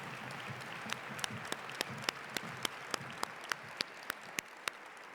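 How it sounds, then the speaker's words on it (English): Applause at a school academic excellence awards ceremony after a musical performance comes across as quiet, distant clapping, with a few sharp claps standing out in a steady rhythm over a soft crowd bed. "Give them another round of applause."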